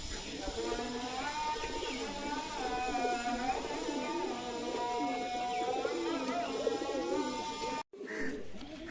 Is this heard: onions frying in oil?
no